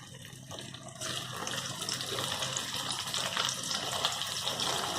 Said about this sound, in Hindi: हम चारों ले लेंगे, उनको फ्राई होने देते हैं।